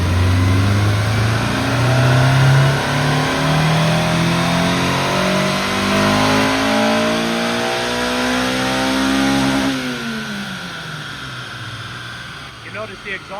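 A Honda S2000 revs hard in fourth gear on a dyno, the loud engine note climbing steadily for about ten seconds before the throttle lifts and it winds down, with some talk underneath.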